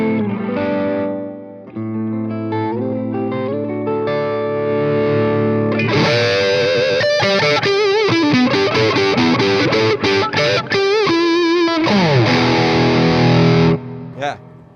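A high-gain guitar amp, pushed with plenty of drive, roars through ringing distorted chords and then fast, aggressive riffing, loud and saturated throughout.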